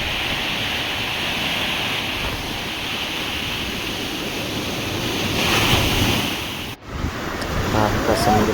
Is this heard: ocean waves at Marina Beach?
yes